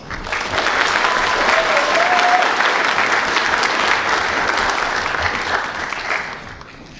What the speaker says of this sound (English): please join us in a big round of applause